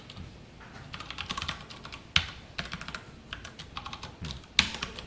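Close computer keyboard typing as code is entered for a Java ArrayList lesson, with irregular bursts of clicky keystrokes and a few sharper, louder key hits, alone without talk.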